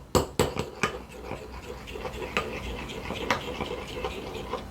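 Spoon stirring a Korean seasoning sauce of oligosaccharide syrup and garlic in a bowl, a quick run of clinking knocks at first, then softer scraping and occasional taps.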